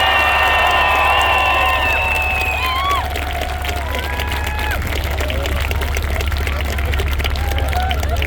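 A crowd at a tank museum event cheering and shouting in a large outdoor gathering, with high voices and whoops over a constant low rumble and some clapping, fairly loud and continuous.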